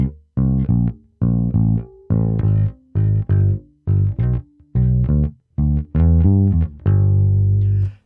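Bass guitar with a distorted, chorus-tinged tone plays a descending whole-half-half blues walking line, steady plucked notes in even rhythm, close and clear with no talking.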